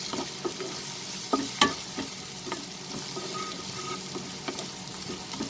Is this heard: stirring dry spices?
yes